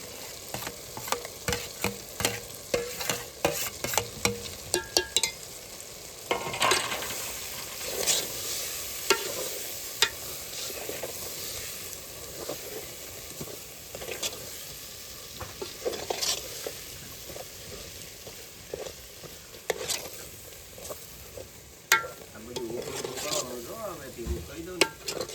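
Eggplant sizzles as it fries in a pan, with steady frying hiss broken by frequent scraping stirs and light clatters of a utensil against the pan, close by, continuing throughout without talk.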